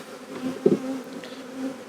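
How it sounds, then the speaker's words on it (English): Honey bees shaken off a brood frame make a steady, dense buzz close by, with a brief thump partway through as the frame is jolted. "he's shaking the bees off in the process"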